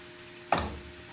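Onions frying in a pan while rice with lentils is cooked, heard as a single brief stirring scrape and a burst of sizzle that quickly fades back to a quiet hiss.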